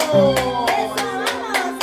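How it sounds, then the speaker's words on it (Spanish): Rhythmic hand clapping keeps time at a birthday party, a handful of sharp, evenly spaced claps over sustained music tones. "Esas palmas"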